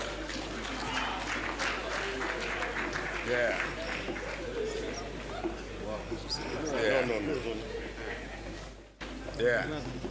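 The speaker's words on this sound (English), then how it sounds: "Please, a round of applause for them." A round of applause at a political party event presenting the Ekiti certificate of return, scattered clapping running under continuous speech and crowd chatter, with a brief dropout near the end.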